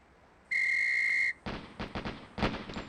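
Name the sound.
whistle signal in video game Police Quest SWAT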